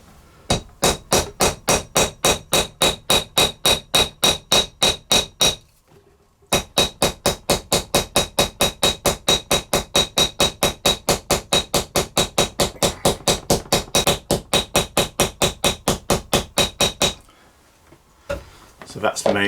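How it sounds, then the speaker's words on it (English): Rapid, steady hammer blows rivet the end of a leather bag strap, dozens of sharp taps in a fast even rhythm, with a short pause partway through before the hammering resumes, loud and close. "And then riveting off the end."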